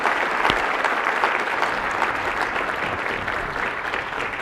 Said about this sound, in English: Can we give Congressman McCarthy a big hand of applause?